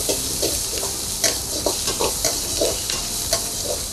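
Small chitti royyalu prawns fry in a hot pan with green chillies as Rajahmundry street food, a loud, steady sizzle broken by repeated scraping stirs that land roughly every half second.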